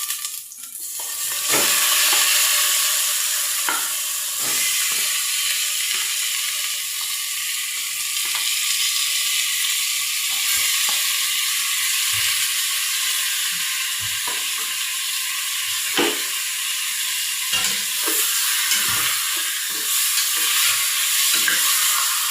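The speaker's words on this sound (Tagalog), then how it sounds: "Igigisa na rin natin ang bangos." Milkfish with salt sautéing in a pan with ginger and onion, a steady close sizzle and frying hiss running throughout with repeated scraping and stirring clicks from a utensil.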